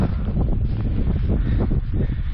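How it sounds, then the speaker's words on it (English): Gusty wind sweeps through a forest near a remote beach on Scotland's west coast, a loud, steady buffeting roar against the microphone with a faint rustle, no talking. "It's a bit windy"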